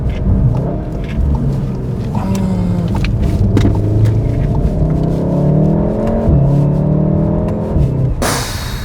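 Volkswagen Golf 7 R with a Stage 1 tune, roughly 350–360 horsepower, accelerating hard through the gears, with loud rising engine tones that drop at each shift and a final burst of wind or exhaust roar at the end.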